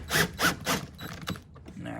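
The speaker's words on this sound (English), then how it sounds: "let's take our drill and let's snug those up" A power drill whirs in several short bursts, close by, each spin winding up and then cutting off as bolts are driven tight on a Club Car Precedent golf cart body.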